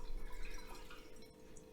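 Water draining from one plastic bottle into another through a connector in a tornado-in-a-bottle experiment; a brief gurgling, splashy liquid rush, close and moderately loud, with no talking.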